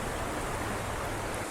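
A river rushes past a riverside campsite as a dense, continuous broadband roar. It is close and steady throughout, with no talking.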